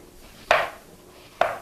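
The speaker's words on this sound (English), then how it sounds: "Now I'm just going to cut them into thin slices" Two crisp knife strokes, spaced about a second apart, as apples are cut into thin slices on a cutting board for an apple pie, close and fairly loud with quiet between the strokes.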